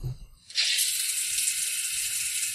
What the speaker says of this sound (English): now we're going to turn the water on and check for leaks